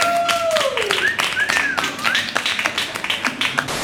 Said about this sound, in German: Ein großer Applaus für die Sportler.